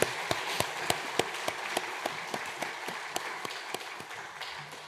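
Steady applause from a congregation filling a reverberant church hall, with sharp individual claps standing out in a fairly even rhythm throughout.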